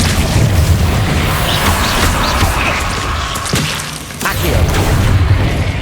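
Incendio fire spell cast in the video game Hogwarts Legacy: a dense, roaring whoosh of flame with heavy booming thuds, loud and continuous over a low rumble, briefly dipping before surging back.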